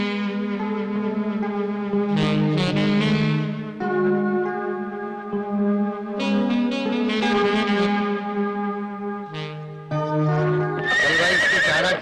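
A horse neighs and whinnies repeatedly, loud and close, in long tonal calls with short pauses between them, with faint hoof clops, and no talking.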